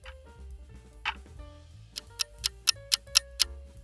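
A clock ticks in a steady, evenly spaced rhythm of crisp, moderately loud clicks, with a low background hum underneath and no talking.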